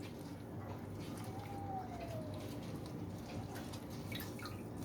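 Water drips and trickles from thoroughly wetted fabric being prepared for dyeing, a soft, steady wet sound against constant background noise with no one speaking.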